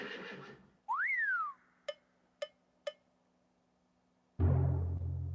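An organ plays a horse whinny effect: a bright rising-then-falling squeal, followed by three short sharp clicks like finger snaps, then a loud low burst of sound, all with no talk.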